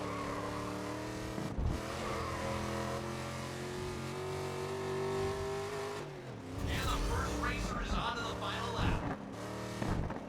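A race car engine in a racing video game holds a steady drone with shifting pitch and occasional tire squeal, fairly quiet under someone talking throughout.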